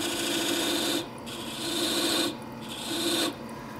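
A diamond tool scrapes a nick inside a metal ferrule on a wood-turning tool handle, making a harsh, steady rasping in three long strokes with brief pauses between them, close and alone.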